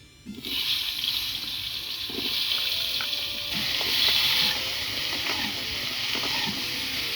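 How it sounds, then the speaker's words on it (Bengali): Potatoes frying in hot oil with turmeric and salt in a wok give off a steady, fairly loud sizzling hiss that rises after a brief quiet start and holds for the rest of the clip, with no one talking. "প্রথমে আলুগুলো ভেজে নিব। কড়াইয়ে তেল দিলাম"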